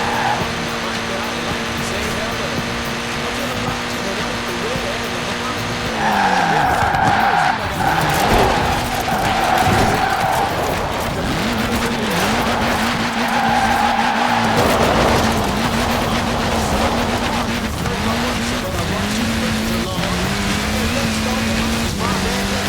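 Mini Cooper S rally car in Forza Horizon 4 sliding through a long skid, with a steady engine drone and sustained tire squeal rising and falling, loud and close throughout.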